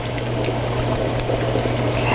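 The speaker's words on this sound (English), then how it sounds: "It's got a little bit of a sizzle going on right away when it goes in" Buttermilk-battered chicken pieces sizzle skin side down in a hot frying pan, a dense continuous hiss and crackle with a low steady hum underneath, loud and close.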